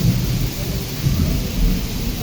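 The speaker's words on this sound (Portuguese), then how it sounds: "Trovão." Thunder rumbles through a heavy rainstorm over a city, a deep continuous roll with steady rain hiss, no talking.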